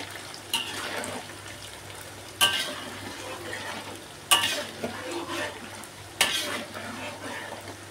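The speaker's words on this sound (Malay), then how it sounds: "Kita goreng sampai garing." Anchovies (ikan bilis) fry in a pan with fried shallots for crispy sambal, a steady sizzle broken by four sharp stirring scrapes spaced about two seconds apart.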